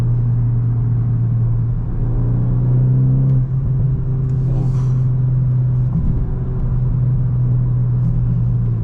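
A Volkswagen GTI with a 300 hp engine cruises steadily through a tunnel, its low engine drone and tyre rumble loud, close and continuous, with a slight shift in tone partway through.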